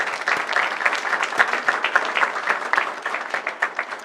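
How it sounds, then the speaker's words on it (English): An audience claps for eighth-grade students at a school gathering, a brisk, dense patter of many hands that stays lively for several seconds. "If you could maybe hear a clap."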